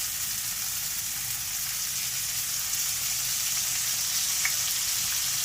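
Fish such as whiting, horse mackerel or anchovy frying in oil in a pan give off a steady, dense sizzle that continues unbroken throughout, close and even in level, with no talking.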